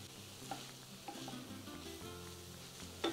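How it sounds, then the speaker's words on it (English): Onions fry softly in a pan for ground beef flautas, a quiet, steady sizzle broken by gentle stirring scrapes and a brief louder clatter near the end. "So now I'm just gonna stir it around, let these onions get a little bit translucent"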